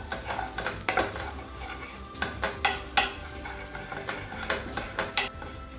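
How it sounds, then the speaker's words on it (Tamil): Grated coconut dry-roasting in a pan while a spoon stirs it, giving repeated dry scraping strokes in an uneven rhythm over a faint sizzle, fairly close and alone. "இப்போ இது நல்ல ஈரப்பதம் போக வறுத்துக்கோங்க"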